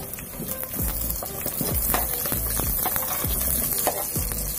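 Chopped onion hits hot oil in a pan for potato masala, giving a steady, close sizzle with repeated scraping stirs of a spoon against the pan.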